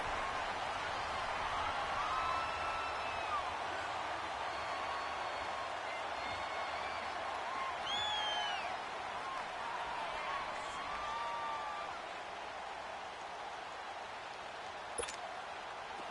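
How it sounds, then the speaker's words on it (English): A stadium crowd in the Dome keeps up a constant, dense roar with whistles and shouts mixed in during a Madden 19 football game, the noise steady and loud for the whole stretch. "The crowd here in the Dome making things difficult."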